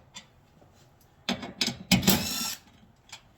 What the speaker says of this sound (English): It's got 3 screws, 3 10 millimeters right here. Just gonna be removing these.